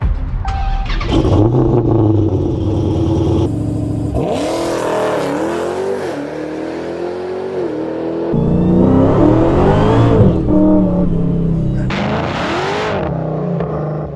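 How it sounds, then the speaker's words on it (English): Dodge Demon 170 with a built 7-liter stroker V8, revving hard through repeated loud rising and falling engine pulls at close range, with brief quieter gaps between bursts. "this one's got a stroker motor under the hood and it's got 7 liters of freedom"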